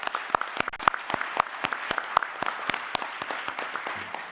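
Audience applause at a recruit class graduation ceremony, made of steady, fairly sparse individual claps that carry on evenly for several seconds with no voices over them.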